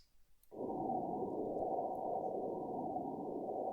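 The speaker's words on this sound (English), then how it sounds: "this is an atmospheric effect that's been programmed into the ZynAddSubFX instrument" A synthesized wind swell, a ZynAddSubFX "Canyon Wind" preset in LMMS, rushes in abruptly and holds as a steady, filtered whooshing hiss, airy and fairly soft.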